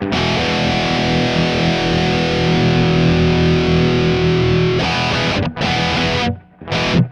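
Heavily distorted electric guitar through Mesa Recto, Marshall 800 and Kemper amps, a sustained crunchy chord held for about five seconds, then choppy palm-muted bursts with abrupt stops, loud and close with no talking.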